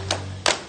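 A class claps for itself in a classroom, two quick sharp bursts of hands close together, short and moderately loud over a faint steady hum.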